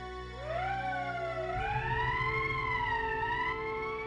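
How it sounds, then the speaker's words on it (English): An emergency siren in the Valkyria Chronicles video game wails up and then wavers in a long, loud, sustained rising and falling tone over a steady low hum, with no speech. "That's the emergency siren."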